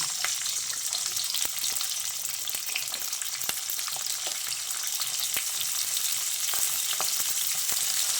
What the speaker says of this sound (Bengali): এবার তেলটা ভালো করে গরম করে নিয়ে প্রথমে আমি কেটে রাখা পেঁয়াজগুলো দিয়ে দিচ্ছি